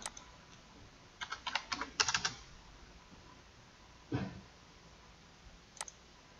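Sparse, quiet clicking of number keys on a computer keyboard as figures are entered into a land-charge calculator: a quick cluster of taps, then a single tap and one final click, with no speech.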